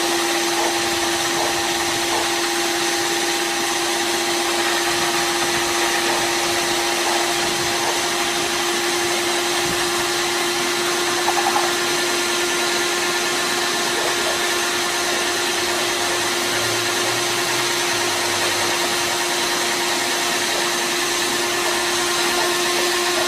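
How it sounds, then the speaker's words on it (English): A shop vac blows steadily and loudly while cleaning out a mounted whitetail deer head, a continuous close whine and rush of air with a constant steady pitch and no pauses. "You want to brush it all out very well, and then you want to go ahead and use the shop vac."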